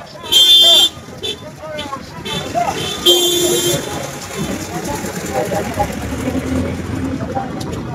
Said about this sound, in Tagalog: Bumusina po tayo kung kayo ay tumututol sa korupsyon!